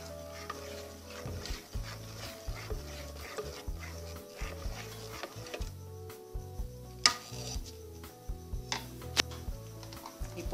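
Creamy tapioca pudding with vanilla, cinnamon and ginger is stirred in a pot, a spoon scraping and knocking against the sides in a steady repeating rhythm, close and fairly quiet.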